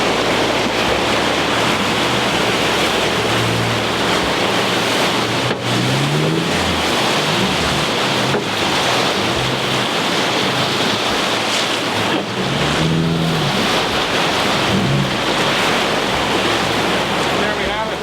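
Rushing water from river rapids on the Stamp River roars steadily and loudly throughout, mixed with wind buffeting the microphone, and faint voices come through now and then.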